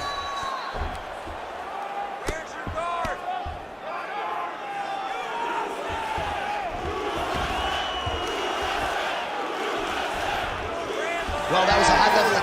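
A crowd in a UFC video game roars and cheers as fighters return to their feet after a ground battle. The cheering is steady and moderately loud, with shouts and whoops and a commentator's voice running over it.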